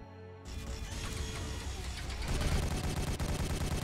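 Rapid, dense gunfire from the Warhammer 40,000 Regicide video game, breaking in after a brief musical tone and building into a loud, sustained burst of shots.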